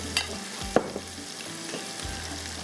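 Cumin, tomatoes, red chili powder and turmeric frying in a pan for a gobi matar sabzi, a steady soft sizzle with a few sharper clinks and stirring scrapes, close and alone without talk.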